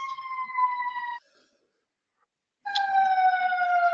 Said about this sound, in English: I apologize for the siren outside the building right now